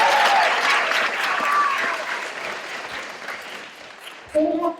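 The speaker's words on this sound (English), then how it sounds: "Clap your hands for first grade." Audience applause for the first grade at a school Leadership Day assembly: a loud burst of clapping that thins out gradually, with a voice starting up briefly at the end.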